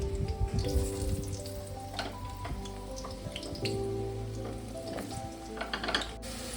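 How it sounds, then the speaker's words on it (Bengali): Potatoes frying in hot oil, a dense, continuous bubbling sizzle heard up close, with small pops and a few faint clinks of utensils. "তেলটা গরম হয়ে গেছে আমার। এবার আমি আলুগুলোকে আস্তে আস্তে ভেজে তুলে নেব।"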